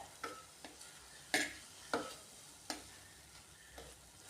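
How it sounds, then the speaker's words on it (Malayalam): Beetroot for pachadi being sautéed in a pan, with a quiet background of light sizzling under a few distinct stirring scrapes spaced irregularly, heard alone and fairly faint. "ഇനി നമുക്ക് ഇതൊന്ന് നന്നായിട്ട് വഴറ്റി ഇതിൻ്റെ ആ പച്ച ചുവയൊക്കെ പോയി നന്നായിട്ടൊന്ന് വാടിയൊക്കെ വരട്ടെ"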